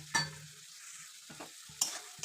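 Fried mushrooms being tossed into a gourd and spice masala and stir-fried, a soft steady sizzle with a few sharp spatula scrapes against the pan, close and without speech.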